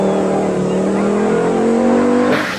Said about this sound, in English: the Quattro races ahead once more